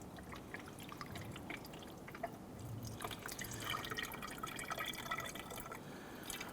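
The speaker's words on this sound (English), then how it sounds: "fill up our expansion tank to the F, which is full" Coolant trickles and drips as it is poured into the expansion tank of a 2017-2020 Hyundai Elantra 2.0L L4, a faint, close liquid filling sound that continues unbroken with no voices.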